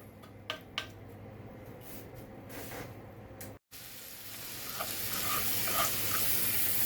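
Leftover shrimp reheating in a pan on the stove, a steady sizzle that grows fuller toward the end, with a few sharp clicks early and a brief dropout midway.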